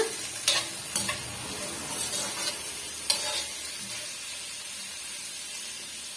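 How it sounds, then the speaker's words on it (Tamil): Coconut and spices sautéed in a pan for a vegetarian raw-banana fish-style curry, giving a steady soft sizzle with a few sharp scraping stirs of a spoon against the pan, close and alone with no voices. "நல்லா வந்து வதக்கி விட்டுடுங்க"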